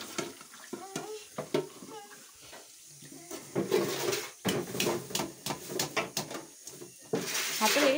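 Water splashes and sloshes in a basin sink in irregular bursts, getting busier toward the end, with a child and an adult talking over it.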